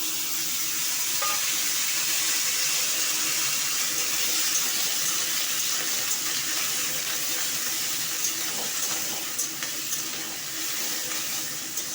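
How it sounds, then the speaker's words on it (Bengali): Papaya and potato pieces frying in oil with a cumin tempering, after fish was fried in the same oil: a dense, continuous sizzling hiss, close and steady throughout with faint clicks. "পেঁপে আর আলুটা ভাজা ভাজা করব"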